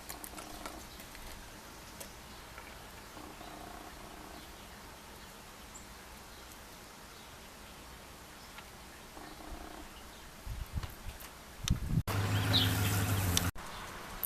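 A sleeping cat purrs softly and steadily, a faint low rumble close by, until a louder burst of noise near the end.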